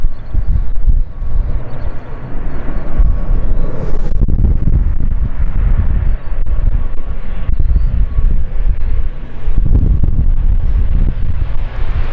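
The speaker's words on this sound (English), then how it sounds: "Ooh, very windy." Strong wind buffets the microphone at London City Airport in a constant loud, low roar, with heavier gusts surging around the middle and again near the end.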